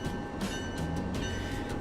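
A train rolls along the rails with rhythmic clicking and a steady metallic rumble, with a faint high whine running through it.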